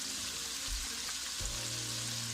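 Carrots sauté in a pan for Jamaican steamed cabbage, a soft, even sizzling hiss with a couple of low bumps.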